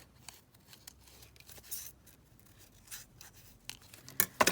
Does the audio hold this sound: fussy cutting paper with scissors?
yes